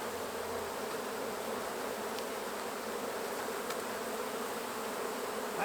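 Swarm of feral honeybees buzzing steadily and densely during a hive extraction from a hollow, a continuous close drone with no pauses.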